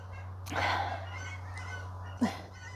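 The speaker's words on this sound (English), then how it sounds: "There's a bunch of geese flying south." Faint, distant honks from geese flying overhead, two brief calls over a low steady hum.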